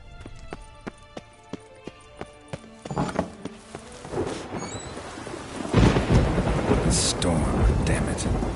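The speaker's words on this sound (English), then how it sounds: "Storm, damn it." Thunderstorm in The Witcher 3 video game: deep rumbling thunder swells into heavy rain hissing on surfaces, with rhythmic hoof clip-clops in the opening seconds and a brief voice.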